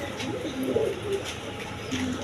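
Pet pigeons coo nearby in soft, rolling calls that recur twice over a light background hiss.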